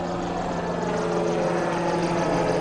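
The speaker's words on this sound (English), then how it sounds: "a helicopter following Oitsanak in towards the stop line here" Helicopter tracking a rally car on the opening Saturday morning stage of Rally México, a steady continuous rotor and engine drone that stays loud and even throughout, with no voices.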